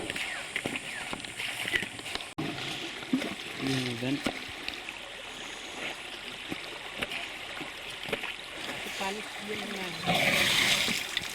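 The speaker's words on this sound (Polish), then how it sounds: "Słonie mają okazję napić się i opryskać wodą." Continuous splashing and sloshing of elephants in a river in Chitwan National Park, Nepal, with trickling and a few bursts of heavier splashes, plus some indistinct vocal sounds.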